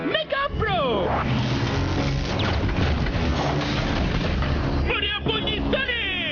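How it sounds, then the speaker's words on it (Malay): Ceremonial cannon fire during the 31 August 2016 National Day parade, a sustained rumbling boom that fills several seconds, with excited voices shouting before and after it. "Kuatnya bunyi meriam tu."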